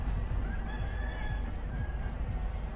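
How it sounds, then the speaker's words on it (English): Roosters crow faintly in the distance at an outdoor trail-race aid station in Chiang Mai, Thailand, their thin calls drifting over a steady rumble of background noise. "I love to hear the roosters in the background"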